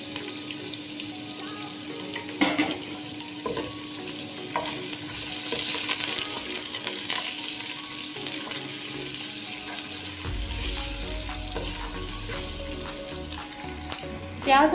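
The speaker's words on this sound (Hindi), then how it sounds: "प्याज हमारा जो है वो फ्राई हो रहा है" Onions fry in hot oil for a masoor daal curry, making a continuous close sizzle with occasional clicks and stirring scrapes, plus running tap water partway through, and no one speaking.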